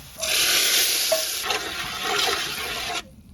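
Hot oil tempering of fried onion and garlic is poured onto vegetable khichuri: a sudden loud hiss bursts in, roars steadily for about three seconds, then cuts off sharply. No voices are heard.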